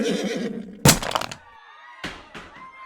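A horse whinnies loudly in a fantasy show, the sharp cry arriving after a burst of clatter and followed by further thuds, with no talk over it.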